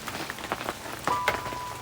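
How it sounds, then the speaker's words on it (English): Light rain pattering steadily outdoors in the South African bush, with scattered close droplet hits and a faint thin tone in the background. "it's been raining quite nicely"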